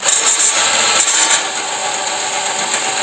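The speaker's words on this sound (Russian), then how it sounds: "я беру гайковерт, чтобы по-быстренькому" Impact wrench tensioning engine mount bolts: a loud, close, steady high-pitched mechanical whir running continuously, easing slightly partway through, with no voices.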